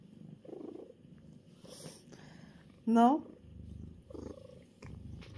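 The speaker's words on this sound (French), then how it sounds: "il ronronne" A pet cat purring softly as it settles in and grooms itself, a low continuous rumble beneath a woman's close, gentle talking, with a brief higher mew-like sound in the middle.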